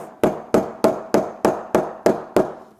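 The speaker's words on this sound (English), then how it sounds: "And now we're just going to hammer on the posts on the middle shelf." A soft face mallet drives posts onto the middle shelf of a Griot's Garage Ultimate Detailing Cart, striking eight dull, evenly spaced blows close by, each followed by a short decay.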